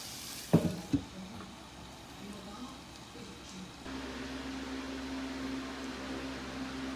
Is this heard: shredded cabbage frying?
yes